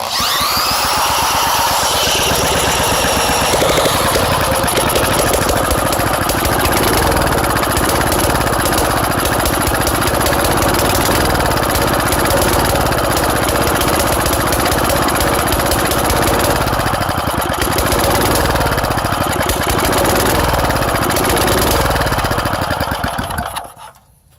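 A Wizard push lawn mower engine runs without a muffler, a loud, harsh, continuous rapid-firing blat held close up for over twenty seconds before cutting off at the end.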